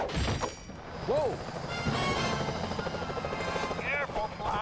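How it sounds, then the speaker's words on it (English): Security helicopters in the video game Sly Cooper Thieves in Time, a steady rotor drone running throughout with game effects layered over it. "Those security choppers are bad news."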